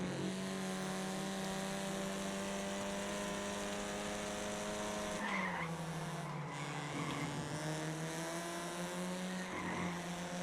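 Race cars in the iRacing sim with a steady, droning engine whine that shifts pitch as the car changes gear, with brief tire squeal bursts, continuous and fairly quiet.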